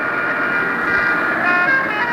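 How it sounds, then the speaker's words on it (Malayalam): A loud, sustained bus horn sounds on a single long blast that fills the whole stretch, with road and engine rumble underneath. "വലിയൊരു ഹോണാണ്."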